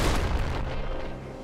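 A flak cannon firing in the video game Nuclear Throne, a dense, loud booming burst of explosive shots blending into a rumbling roar that tapers slightly.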